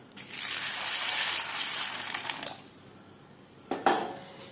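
Black-eyed peas rattle and pour into a metal bowl for about two seconds, then a brief clink and splash of water.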